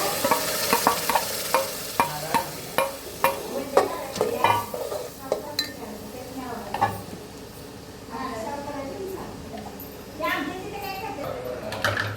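Wheat grains and masala roast in oil in a pan, giving a crackly sizzle with repeated sharp stirring scrapes and clinks, loudest early, while voices talk over the cooking.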